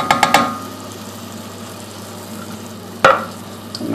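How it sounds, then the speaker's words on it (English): Canned chopped tomatoes with sun-dried tomatoes and a garlic clove being stirred in a pan: a few quick scraping knocks at the start, a steady low simmering hiss, then another sharp scrape near the end. "And just stir that round and bring it to the boil"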